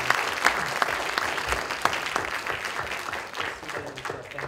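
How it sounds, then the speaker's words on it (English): A seated audience claps after a SETI team talk on solar storm prediction, with many hands hitting together in a lively, uneven patter and a few sharper close claps standing out before the clapping slowly thins. "All right, big round of applause."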